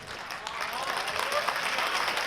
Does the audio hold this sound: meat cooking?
no